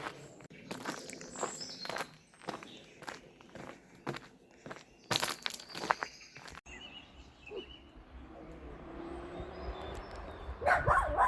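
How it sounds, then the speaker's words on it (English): Footsteps crunch and scuff along at a camping spot on a farm, with a dog giving a few yips and barks partway through, and the walking grows louder again toward the end. "That dog is barking at me."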